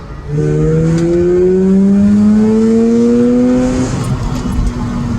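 A sports car engine revs up loudly and close, its pitch climbing smoothly for several seconds before easing off into a steady rumble.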